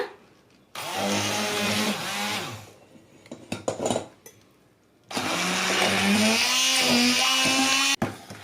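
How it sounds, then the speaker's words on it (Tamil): Boiled vegetables for pav bhaji are mashed with a masher, heard as two sustained whirring, motor-like bursts separated by a short pause with light clatter, the second burst longer and steadier. "நான் இந்த மாதிரி ஒரு மேஷர் வச்சு மேஷ் பண்ண போறேன்"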